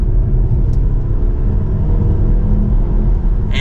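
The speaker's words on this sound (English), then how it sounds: "it's going to rev out a little bit higher there just to give you that performance that you need" A 2024 BMW X2 xDrive28i engine revs higher with the transmission in L, a steady, close, droning hum over continuous road rumble while driving.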